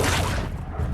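A Confringo fire spell blast in Hogwarts Legacy, a loud, dense, close burst that fills the whole second with a heavy low rumble and no talk.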